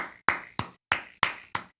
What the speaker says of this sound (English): Are you clapping for me?